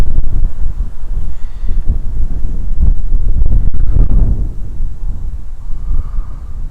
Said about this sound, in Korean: 오, 바람 너무 심한데?